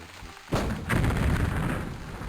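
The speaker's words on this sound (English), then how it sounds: "Keep shooting that house. Eventually it's gonna go down." Gunfire in the WWII strategy game Allies: Crossing the Rhine, set around Essen: a sharp onset after a quiet half second, then a sustained dense roar of shots and booms with a second burst close behind, loud and continuous.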